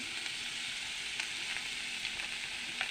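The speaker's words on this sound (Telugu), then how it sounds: "ఇవ్వండి ఉల్లిపాయలు వేగుతున్నాయి" Onions frying in a pan, a steady close sizzle of hot oil, with faint occasional stirring ticks and no talking.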